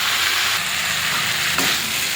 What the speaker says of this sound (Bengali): এবারে ভালো করে কষে নেব।